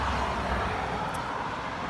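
Steady road traffic noise beside Loch Ness, a continuous broadband rumble of passing vehicles close by, fairly loud and unbroken, with no talking.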